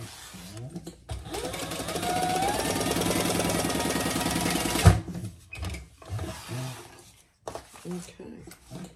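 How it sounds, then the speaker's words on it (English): A sewing machine stitches a sling bag, running in one long steady whirring burst, then a clunk as it reverses for a few short backward stitches; a person talks softly around it. "Still gonna turn and go backwards a few stitches."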